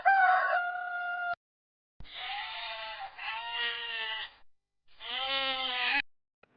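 Farm chickens give loud, drawn-out, harmonic calls in three separate bursts with short silent gaps between them, close by and with no other sound.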